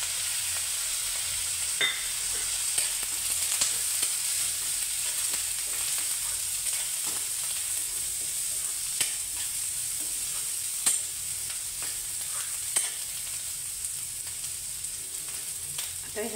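Carrots and corn frying in a pan for a breakfast dish, a continuous close sizzle with occasional soft stirring clicks and scrapes throughout.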